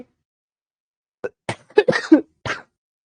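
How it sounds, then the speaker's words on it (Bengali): Several short, dry coughs from a person with a lingering cough, close to the mic, coming in a quick irregular burst after a brief silence. "কাশিটা সারে নাই"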